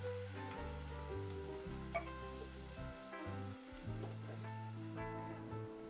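Ground spice paste with curry leaves mixed in a hot pan, a faint steady sizzle with soft stirring, while low tonal background music plays throughout.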